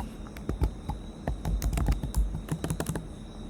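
Code being typed on a computer keyboard: a quick, uneven run of crisp key clicks and clacks, close and clear, with no talking.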